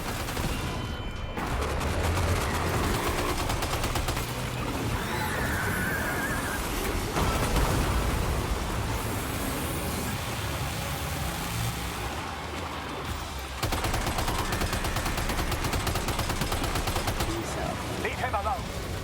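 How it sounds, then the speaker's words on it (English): Gunfire during a Death Stranding 2 firefight, sustained crackling shots and rumbling combat noise running throughout, with voices shouting beneath the din. "Shoot it now!"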